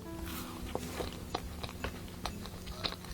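Close, crunchy bites and chewing of fried chicken, golden olive and supreme sweet-spicy glazed pieces, with several sharp crackling bites spaced through steady mouth sounds and no talk.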